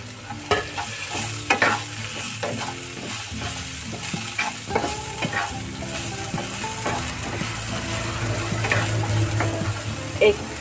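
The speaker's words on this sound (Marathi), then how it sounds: "कांद्याच बरोबर तोंडली टाकून फ्राय करून घ्यायची" Ivy gourd (tondli) stir-fried with onions in a pan, with steady close sizzling and repeated scraping stir strokes all the way through.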